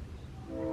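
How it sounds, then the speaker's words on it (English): A passing train rumbles low and steady, with a horn-like tonal drone swelling louder toward the end, fairly close in an indoor setting. "there's a train going by"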